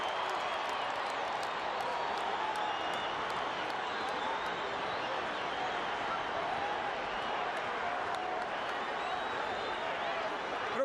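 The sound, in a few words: Brazilian football crowd cheering in FIFA video game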